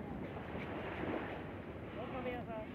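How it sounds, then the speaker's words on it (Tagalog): Ocean waves wash steadily onto a sandy shore, a continuous broad surf rush with gusts of wind buffeting the microphone and a faint voice briefly audible near the end. "nandito tayo ngayon sa tabing dagat"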